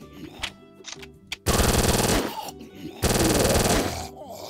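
Uzi machine gun fire in a third-person zombie shooter video game comes first as a few scattered shots, then in two loud, rapid sustained bursts, each lasting about a second, with brief quieter gaps between.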